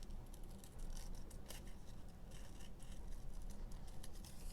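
Scissors snipping and fussy-cutting around paper leaves for handmade tags or journal cards, a soft, quiet stream of small crisp cuts and paper rustle, close up and steady with no voice.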